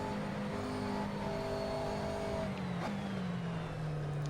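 A race car on an outlap at Canadian Tire Motorsport Park in the Assetto Corsa racing game, with a steady engine drone and gear-change pitch shifts. The engine falls into a lower sustained tone toward the end, with no voices.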